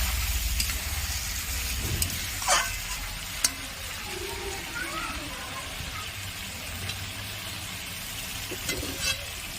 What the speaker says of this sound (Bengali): আর একটু কিন্তু খুব ভালো করে কষিয়ে নেবে।